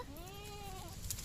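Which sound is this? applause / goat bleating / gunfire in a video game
goat bleating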